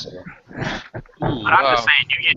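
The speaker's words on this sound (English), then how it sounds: "Whose fucking dog is that?" A dog barks outside, a few sharp yips and barks heard amid and between people talking in a sports conversation.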